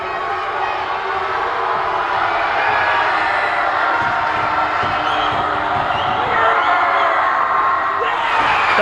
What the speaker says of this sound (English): Crowd is going nuts in this place